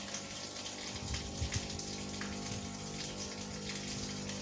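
Liquid being stirred and mixed for a biofloc fish pond, a steady churning, sloshing wash of water with continuous gurgling texture, close and fairly even throughout.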